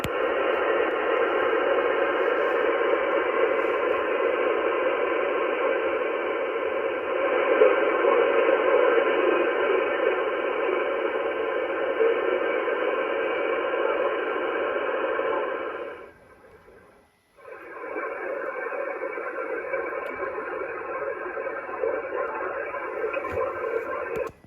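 A faint amateur radio sideband transmission comes through a receiver as a steady band of hissy, garbled noise that holds for about sixteen seconds, drops out briefly, then returns at the same level, with no clear voice.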